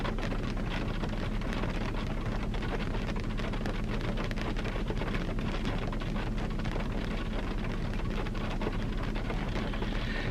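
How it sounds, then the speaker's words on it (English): Rain falling steadily outdoors, a dense continuous wash of drops with a deep low rumble underneath, and no voices. "Do you hear the rain's about to start?"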